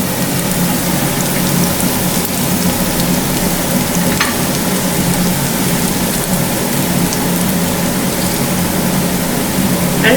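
Finely chopped garlic sizzles in hot oil in a kadai already holding popped mustard seeds and fennel, as the tempering for spicy pepper idli; a steady, dense crackle and hiss runs unbroken throughout, with no talking.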